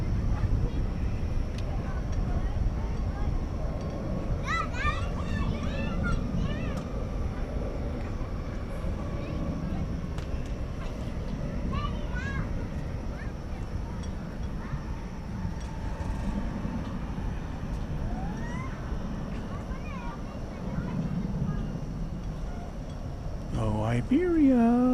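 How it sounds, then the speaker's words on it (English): An Iberia airliner accelerates down the runway at DFW Airport at night, a steady broad engine roar running throughout under intermittent chatter and background voices. "So Iberia is on its way down the runway anyway."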